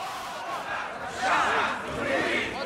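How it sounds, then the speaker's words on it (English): Angry crowd in Egypt mobbing a man, a mass of shouting voices rising and falling in loud surges of yelling. "Suddenly, he is mobbed by an angry crowd, hounded out as a crony of Hosni Mubarak"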